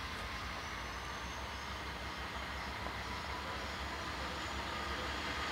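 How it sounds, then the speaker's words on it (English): A train rumbles steadily past nearby, a continuous heavy roar of wheels on track with faint rattling throughout. "You guys must be watching this train"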